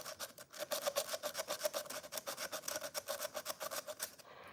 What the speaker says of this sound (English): I am going to take my sander and I'm just gonna rough the back of this.